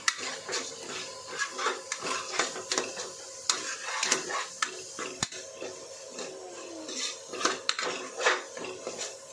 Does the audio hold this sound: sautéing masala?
yes